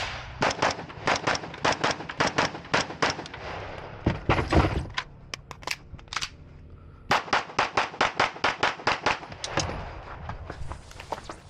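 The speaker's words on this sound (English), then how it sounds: "shoot the rifle, then shoot the pistol here" Rifle and pistol shots fired at a multigun match stage, rapid strings of sharp cracks in quick bursts with brief pauses between, close and loud, echoing outdoors.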